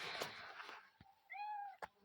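A house cat gives a single clear, drawn-out meow at close range, following some rustling and soft handling noises, with a sharp tap just after.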